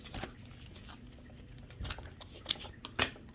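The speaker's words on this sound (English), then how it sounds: "going to get one more shuffle" Oracle cards, a Moonology deck, shuffled by hand in a few soft papery riffles and taps, close and fairly quiet, with a couple of sharper card snaps near the end.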